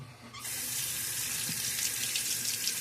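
A bathroom tap turns on after about half a second and then runs steadily, a close and continuous hiss of water flowing into a sink for rinsing after a wet shave.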